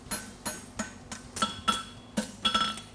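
A blacksmith's hammer strikes a horseshoe at a world championship forging contest, about nine sharp metallic blows in an uneven rhythm, some with a ringing clink, close and fairly loud with no talking.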